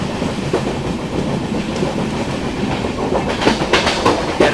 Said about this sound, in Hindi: empty rake of Lucknow Chennai Express